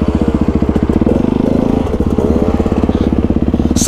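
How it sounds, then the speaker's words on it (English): A dirt bike engine catches while being push started, a loud close rapid popping putter with dense even firing pulses throughout and a brief stumble midway, no voices. "So he's got to push start his bike and hurry he goes."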